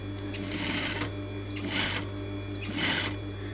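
Three bursts of sewing machine stitching along a coat collar, each quick run of needle clatter lasting about half a second with short pauses between, close and clear over a steady motor hum.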